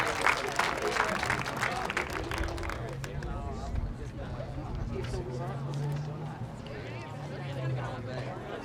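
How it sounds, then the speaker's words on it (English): Applause at a school moving-on ceremony, brisk clapping at first that fades into a murmur of crowd chatter and voices, with a loose rhythmic patter underneath. "one final applause for A4."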